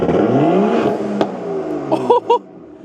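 A BMW 435i engine revs up close and loud, its rising drone swelling and then settling before two short, sharp throttle blips near the end.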